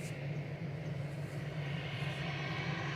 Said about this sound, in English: next departures Lufthansa 2507 to Munich. DAIZN departing, A320 Classic.